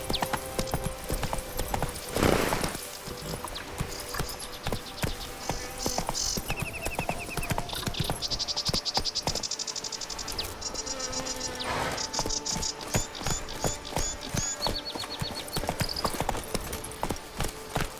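Steady clip-clop of the horse Roach trotting in The Witcher, hoofbeats in an even rhythm over a bed of chirping insects, with faint snorts and some background game sounds.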